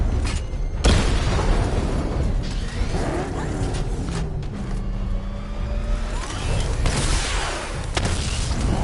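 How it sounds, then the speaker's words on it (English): Missile barrage in Batman Arkham Knight, a rumbling run of booms and whooshing streaks with mechanical whirring underneath, loud and continuous, with sharp impacts near the start and end. "Destroy targets to charge up weapon energy and activate missile barrage."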